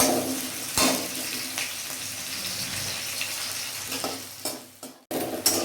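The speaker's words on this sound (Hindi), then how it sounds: "तो धीरे धीरे भूनने देंगे ब्राउन होने तक" Onions fry slowly in a pan for a raw papaya sabji, sizzling with a loud, steady hiss close by, with occasional stirring scrapes and a brief break near the end.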